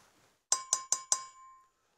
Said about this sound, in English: The different levels make the glass sound like a different note, like this.